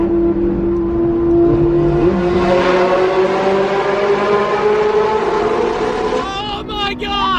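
A Lamborghini SV and a Porsche GT3 roar through a tunnel. Their engine notes echo loudly and climb steadily in pitch under excited voices.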